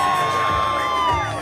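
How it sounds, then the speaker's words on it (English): A crowd cheers and shouts with high whoops for a 2022 STEM graduating class at a senior walk, voices blending into a loud continuous roar. "Let's give a big round of applause"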